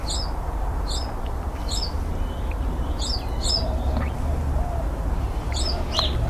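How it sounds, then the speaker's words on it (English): Finches at a backyard bird feeder give short, high chirps and tweets in scattered clusters over a steady low background rumble, with no talking. "Finches are back. Now they're fighting for position."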